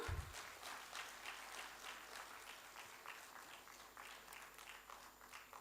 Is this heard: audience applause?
yes